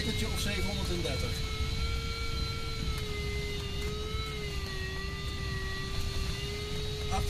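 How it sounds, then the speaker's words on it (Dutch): Glider variometer beeping in flight at about 730 metres, a steady high tone that wavers slightly in pitch, heard continuously over cockpit wind rush and airframe noise. "Die pieptoon die je op de achtergrond hoort is de variometer."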